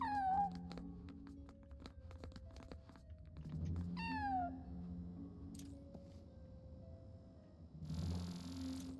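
Cat meows in the LEGO Batman video game, a few rising-falling mewing calls near the start and again mid-clip over busy game music and effects.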